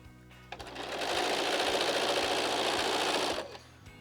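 A sewing machine stitches a curved pieced quilt seam. It makes a short run of rapid, steady stitching that starts up, holds for a few seconds and then stops, close by and without talk.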